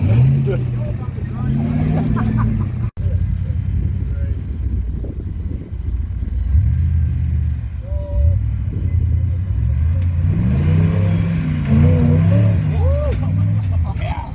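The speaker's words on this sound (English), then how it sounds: "Normal Jeep noises." A Jeep's engine revs and strains in repeated surges while rock crawling off-road, rumbling low and close, with people talking over it.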